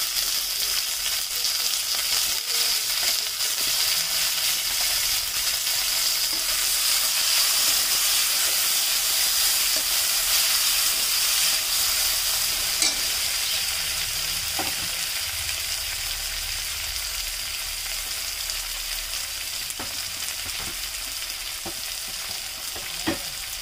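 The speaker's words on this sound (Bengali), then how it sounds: "তারপরে আমরা দিয়ে দিলাম উপর থেকে কুচিয়ে রাখা একটা মিডিয়াম সাইজের টমেটো, দিয়ে ভালো করে মশলাটি নেড়ে নিয়েছি" Chopped medium tomato and spice masala frying in a pan for mixed dal, a steady loud sizzle and hiss with occasional scraping stirs throughout, no talking.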